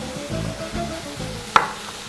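Beef for a stroganoff frying in a pan, a low steady sizzle with soft rhythmic stirring scrapes and one sharp clack near the end.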